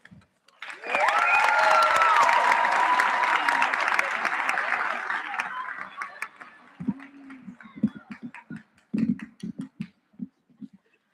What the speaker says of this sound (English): And can we please get a warm applause for GN?